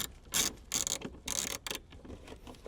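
A wrench tightens a nut onto a ring terminal on a Toyota Tundra amplifier harness, giving a few quiet, close ratcheting clicks and metallic rubs in short bursts.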